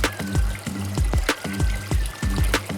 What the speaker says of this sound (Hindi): 5 मिनट बाद यह निकासी होती है